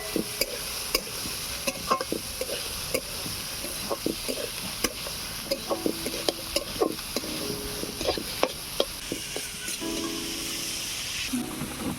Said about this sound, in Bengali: টমেটো কুচি লঙ্কা কুচি সবজিগুলোকে এবারে ভেজে নেব